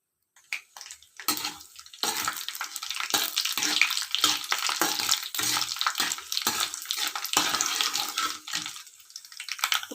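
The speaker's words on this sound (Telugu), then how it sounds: "ఆయిల్ అయితే హీట్ అయిందండి ఇప్పుడు పోపు దినుసులు అయితే వేసేసుకుందాం" A loud, steady crackling sizzle of tempering spices hitting hot oil, starting abruptly and continuing densely with small pops throughout.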